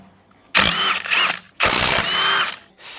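An impact gun or power tool loosens wheel nuts on a Yugo during a DIY alignment, with two loud, close bursts of whirring hammering separated by a short pause and a third starting at the end.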